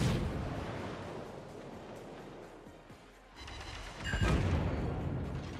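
Incoming shells from the battleship Massachusetts in World of Warships: a steady roar of naval battle noise that dips briefly, then a loud, close burst of impacts near the end.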